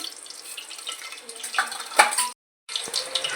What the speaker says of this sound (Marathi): आता तेल गरम झालेलं आहे त्यात एक चमचा मोहरी